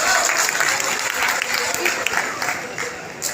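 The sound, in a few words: audience applause welcoming performers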